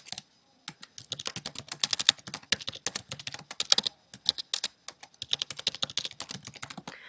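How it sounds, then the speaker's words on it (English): Keys clatter on a computer keyboard in quick, uneven bursts of close, crisp taps, with a few short pauses between words and no voices. "In Google, type in Murdoch University APA referencing."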